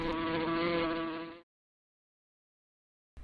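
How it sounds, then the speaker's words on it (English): A housefly buzzes loudly and close for about a second and a half in a steady, tonal drone, then cuts to silence. "Fly,"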